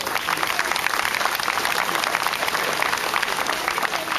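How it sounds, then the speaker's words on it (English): Applause from an outdoor crowd at a September 11th memorial gathering in Marine Park, a dense, steady wash of clapping that holds at one level throughout with a faint murmur of voices underneath. "give them a round of applause for their..."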